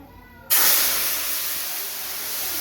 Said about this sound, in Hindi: हम इसमें थोड़ी थोड़ी सी चाशनी डालेंगे